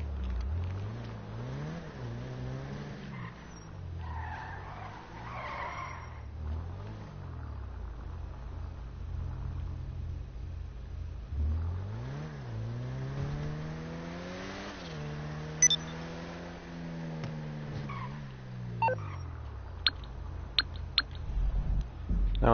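Car engine in Grand Theft Auto V revving in repeated rising and falling sweeps, a steady drone between the bursts, loud throughout with a few sharp clicks near the end.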